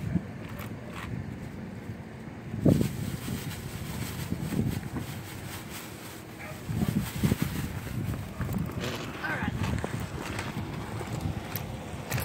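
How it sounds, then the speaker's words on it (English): Gusty wind buffets the microphone with uneven low rumbles and bursts, continuous and fairly loud throughout, rising and falling in strength. "It's kind of windy."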